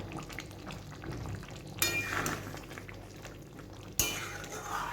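A metal spoon stirs garam masala powder into yogurt chicken in a pan, with soft scraping and sizzling and two sharp clinks against the pot.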